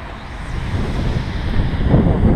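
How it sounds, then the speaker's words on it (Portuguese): Strong wind buffeting the microphone at a riverside, a loud continuous low roar and rumble that swells slightly toward the end, with no voices. "Aqui é a beira do rio. É, o vento tá muito grande."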